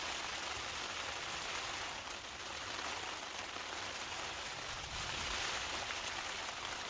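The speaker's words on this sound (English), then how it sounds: "you can hear me above this rain battering off the tent" Heavy rain battering a hot tent during wild camping in Scotland, a dense, steady hiss of drops on the fabric, close and continuous for the whole stretch, with no talking.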